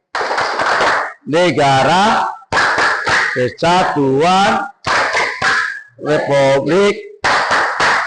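A group performs the Tepuk NKRI clapping routine, crisp sharp claps in quick rhythmic bursts mixed with loud unison chanting, repeated in short phrases separated by brief pauses.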